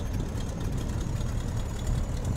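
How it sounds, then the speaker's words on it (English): A Stearman PT-17 biplane's piston engine idles in Microsoft Flight Simulator at around 700 RPM, a steady low rumbling drone with a faint rhythmic knock, unchanging and continuous throughout. "We'll let the engine idle back at around 700 RPM for the moment."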